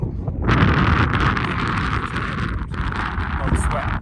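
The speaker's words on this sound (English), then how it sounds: "Today's actually a cool day with the wind." Strong wind buffets the microphone on a mountain trail in the Superstition Mountains, a steady loud roaring rush with gusty swells and no pauses.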